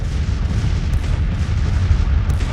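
Continuous rumbling artillery barrage from Grand Tactician: The Civil War, a dense low booming roar with a couple of sharper reports, loud and steady throughout, no voices.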